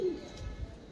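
A short, low pigeon coo, soft and close, with a faint higher call at the start and no talking.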